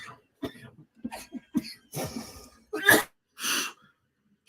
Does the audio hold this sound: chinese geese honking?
no